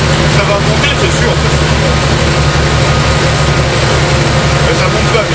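A vehicle engine labours uphill in first gear, a loud, steady low drone with constant rumble and no letup, close and filling the whole stretch.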